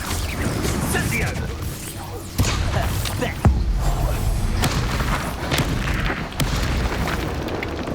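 An Incendio fire spell in the Hogwarts Legacy video game lets out booming fiery blasts, with a few sharp bursts rising over a loud, dense rumble of combat sound.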